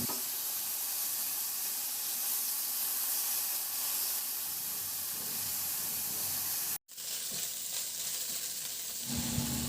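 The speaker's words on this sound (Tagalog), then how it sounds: "At i-sear ko yan hanggang sa mag-brown o hanggang sa maglabas din siya ng sarili niyang mantika." Pork liempo cut into serving pieces sears in hot oil until browned and rendering its own fat, a loud steady sizzle and spatter throughout, briefly cut off near the end before resuming.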